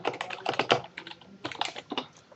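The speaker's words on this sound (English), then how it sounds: "you will type your message." Rapid fingers type a chat message on a computer keyboard: a dense, close run of crisp key clicks with a brief pause midway, then more bursts of keystrokes.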